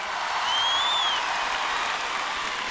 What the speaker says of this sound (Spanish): Quiero pedirles que el primer aplauso de esta noche se lo regalen a los chicos de la orquesta que me acompañan.